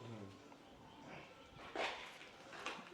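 A dog barks and whimpers faintly in the distance on a pig farm in Kinshasa, Congo, with a few short yelps over steady outdoor background noise.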